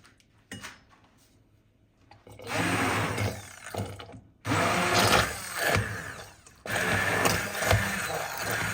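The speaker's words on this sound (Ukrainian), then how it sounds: "Беремо погружний блендер." Immersion blender pureeing pumpkin cream soup in a pot, whirring in three loud bursts separated by short pauses, the motor pitch wavering as it churns through the thick mixture after a quiet start.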